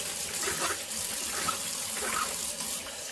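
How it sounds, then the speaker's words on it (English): Tap water running steadily into a sink while an old sponge is rinsed to clean indoor plant vases, a close, continuous gushing flow heard alone. "Let's turn off the water, not be too wasteful here."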